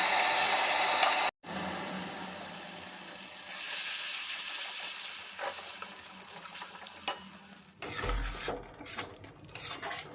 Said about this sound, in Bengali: এবারে এই গ্যাস কমিয়েই এটা কিন্তু ভাজা হতে থাকবে